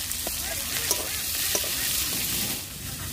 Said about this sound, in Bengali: রসুন আর পেঁয়াজটা ভালো করে ভেজে নিয়েছি